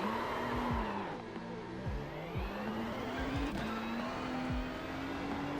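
A race car engine in a racing simulator whines high and steady, broken by a string of sharp downshift blips and faint tire scrubbing, the engine note dipping and climbing again, with no talk.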